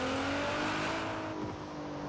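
A heavily modified car's engine revs in the racing video game Forza Horizon 4, a loud, rising and shifting engine note under steady road noise, dipping briefly before picking up again.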